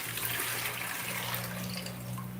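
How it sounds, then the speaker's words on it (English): Steady rush of water pouring into a fish tank in a fish room during a water change, a continuous loud splashing flow with a low hum beneath. "I fill that back up with new water, which constitutes and some water change as well."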